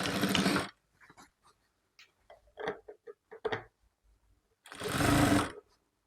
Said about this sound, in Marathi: तर आपल्याला 1/2 इंचाची टिप मारून घ्यायची।